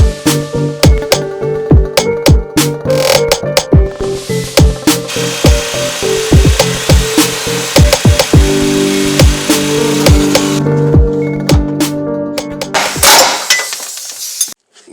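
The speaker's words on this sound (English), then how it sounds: "You have to cut it because the bolt seizes to the inner sleeve right here." A seized bolt on a Honda S2000 toe arm being cut through at the inner sleeve with a power tool, loud and close, with a rapid series of sharp metallic impacts and a ringing, tonal grinding drone that stops near the end.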